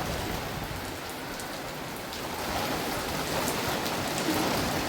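Steady monsoon rain pours on an open rooftop terrace, a dense, even hiss of drops drumming nearby without a break.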